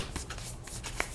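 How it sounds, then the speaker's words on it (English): Tarot cards shuffled by hand in a quick riffle, with soft papery flutters and a few sharper snaps near the end, close and fairly quiet, no talking. "I'm going to at least start shuffling now."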